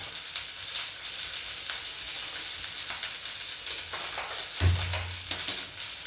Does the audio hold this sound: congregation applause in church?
no